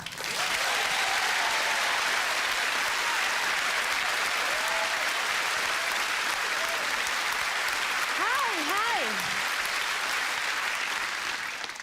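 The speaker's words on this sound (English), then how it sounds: "Put your hands together, scream applaud, and welcome the poetry of Viv G." A comedy club audience greets a poet at a stand-up show with dense, sustained applause and cheering that holds at full strength throughout, a few whoops and a rising shout breaking above the clapping near the end.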